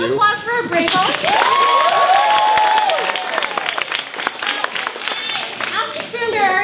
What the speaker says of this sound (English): let's get a round of applause for our brave volunteers.